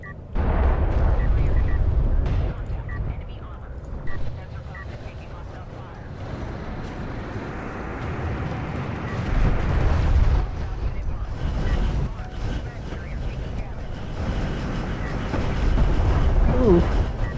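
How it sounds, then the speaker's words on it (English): Coalition artillery in Homeworld: Deserts of Kharak firing missile salvos, heard as a loud, continuous rumbling barrage of booms and bursts that swells and recedes, with a voice talking over it. "Coalition artillery, in case you didn't know, it does a lot of damage. It fires more missiles than the Gaussian one does"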